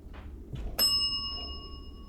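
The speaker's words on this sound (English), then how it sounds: "can you ring that bell once?" A small hand bell used during a paranormal investigation in a house gives one clear ding that rings on and slowly fades, preceded by faint rustling in a quiet room.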